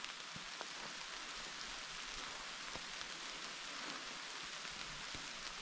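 Steady, soft rain hissing on surfaces outdoors along the GR 736 hiking trail in France, with a few scattered louder drops; no voices.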